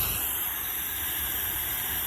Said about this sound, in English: I do happen to use that spray, the Pantene spray